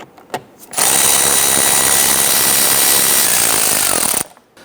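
Power tool whirring steadily and loudly at close range while loosening 8mm bolts that hold the fender liner to the front bumper of a Ford Explorer, preceded by a few brief knocks and ending abruptly.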